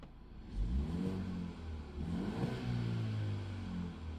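A BMW G30 5 Series engine revved with the exhaust valves closed, rising twice in smooth harmonic sweeps and then holding a steady, muffled drone, heard close.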